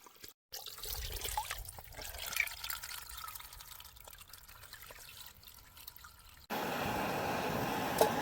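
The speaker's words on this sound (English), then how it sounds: "But now to collect some water for Checklist and I, and then cart it back up the hill." While hiking, a person collects water from an outdoor source, with soft trickling and dripping close by that turns into a louder, steady rushing flow near the end.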